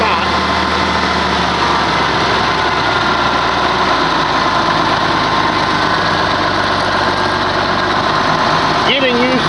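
An Oliver 1850 tractor engine runs steadily as it is parked, a loud, close, continuous diesel rumble that holds throughout with a brief shift near the end.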